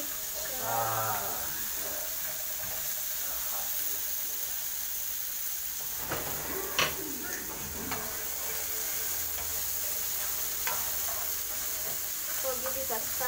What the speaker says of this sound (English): So I'm gonna add in the green peppers and saute the mixture.